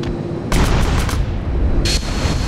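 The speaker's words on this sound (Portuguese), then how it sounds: "Oxi, você explodiu o avião." An airplane exploding in GTA San Andreas, heavy booming blasts with a loud burst around halfway and another near the end, dense rumbling game explosions without talk.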